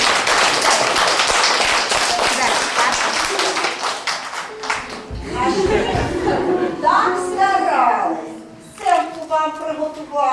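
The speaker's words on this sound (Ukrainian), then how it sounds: "гучніше плескайте" Children and parents clapping at a kindergarten Mother's Day party, dense rapid handclaps at first, then thinning to scattered claps as children's voices and adult talk take over.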